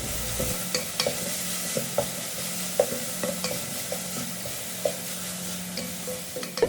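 Dark soy sauce stirred into a hot frying pan of fried rice, continuous sizzle under a rhythmic series of spatula scrapes and taps against the pan, close and clear with no voices.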